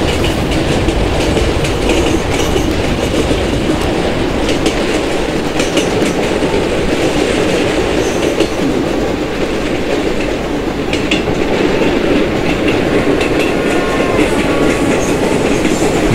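Express train running toward Bhusaval in the Open Rails simulator on an Indian railway route, a loud continuous rumble with rhythmic clickety-clack of wheels over rail joints, no talk.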